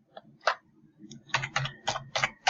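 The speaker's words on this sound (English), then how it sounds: "Let's type in" Typing on a computer keyboard, a handful of separate key clicks followed by a quicker run of crisp taps, close and clear against near silence.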